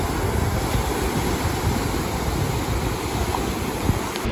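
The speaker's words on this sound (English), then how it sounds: "We went to the beach." Ocean surf at a Miami beach makes a steady, full rush of breaking water with gusty wind noise across the microphone, continuous and fairly loud with no voices.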